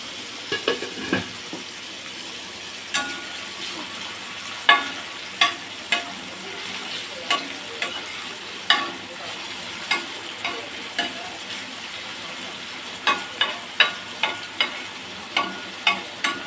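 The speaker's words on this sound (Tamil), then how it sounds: "இப்போ கட் பண்ணி வச்சுருக்க வெங்காயம் தக்காளி ஆட் பண்ணிக்கலாங்க." Onions and tomatoes frying in oil with fennel seeds on a hot dosa pan, a steady sizzle broken by repeated sharp scrapes and taps of the stirring spatula throughout.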